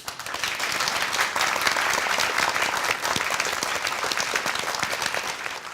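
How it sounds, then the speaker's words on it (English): Audience applause for contestants on a Korean cooking competition show, dense clapping that holds steady and close for several seconds. "let's give our contenders a big round of applause"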